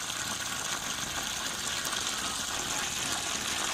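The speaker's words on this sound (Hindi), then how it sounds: "जिस तरह कि तुसीं देख रहे हो नलका चल रहा है" Water tap running steadily, a continuous hissing gush pouring into a container while herbal ingredients are steeped, close and even in loudness throughout, with no talking.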